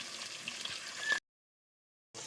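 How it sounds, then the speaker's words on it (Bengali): A fish head rubbed with salt and turmeric fries in hot oil in a Bengali home kitchen, giving a close, steady sizzle and crackle that drops out briefly, then resumes. "খুব ভালো করে মাথা করে ভেজে নেব।"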